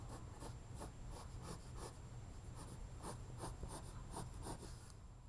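A pencil scratches short rhythmic strokes across paper while shading a winter-themed self portrait, soft repeated scratches over a steady quiet hiss, close up, with no talking.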